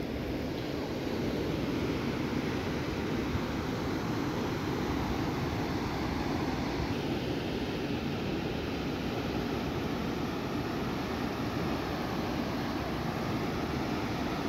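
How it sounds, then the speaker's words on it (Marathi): Continuous rushing water of a stream or waterfall nearby, a steady broadband wash, unchanging throughout with no voices. "पाण्याचा कसा मस्त आवाज आहे, सुंदर आवाज आहे बघा"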